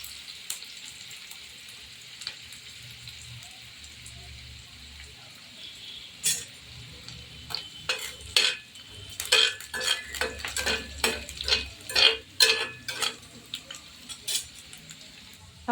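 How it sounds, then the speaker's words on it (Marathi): Onions sizzling in a pan for pithla while a metal spoon stirs and scrapes, the scraping growing louder and more rhythmic toward the end, heard up close without speech. "कांदा छान भाजून घ्यायचा"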